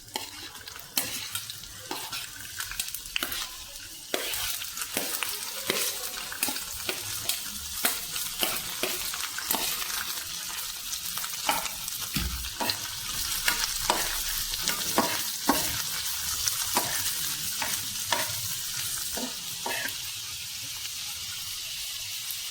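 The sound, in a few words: onions frying and being stirred in oil for tomato egg fry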